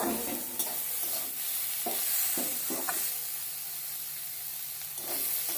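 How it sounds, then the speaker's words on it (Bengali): Eggplant fries in a pan while it is stirred, making a continuous gentle sizzle broken by several short scraping stirring strokes. "দেখুন লাল লাল হয়ে গেছে বেগুনটা, ভাজা হয়ে গেছে।"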